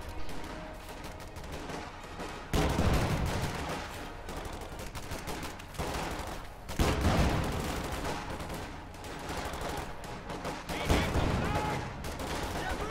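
Rifle fire crackles between infantry squads in a war video game, steady bursts of shots with heavier volleys every few seconds and a low battlefield rumble beneath.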